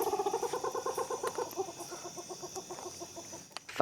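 Large owls calling at night in Costa Rica give quick, pulsed repeated call series that start fairly strong and then thin out and fade over a few seconds.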